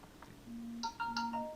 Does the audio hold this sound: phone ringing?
yes